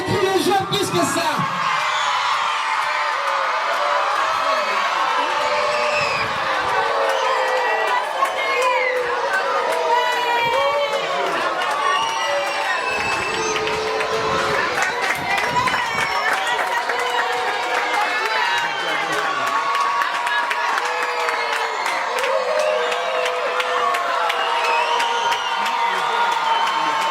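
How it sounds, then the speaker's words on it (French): Loud crowd shouting, whooping and cheering at an outdoor honours ceremony where a development ambassador is named, a dense, continuous roar of many voices throughout with shrill cries on top. "Les cris des gens plus fort que ça."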